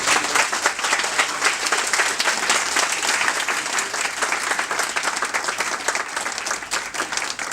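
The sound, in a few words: applause from the congregation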